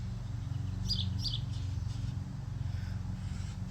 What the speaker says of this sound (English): There's a whole bunch of birds around me here.